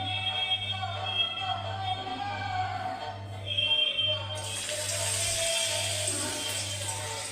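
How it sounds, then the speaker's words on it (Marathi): A batter-coated potato dropped into hot frying oil sets off a sudden, steady bright sizzle that carries on over a low background hum. "एक बटाटा असा ह्या बॅटरमध्ये चांगला घोळवून या तेलात सोडते"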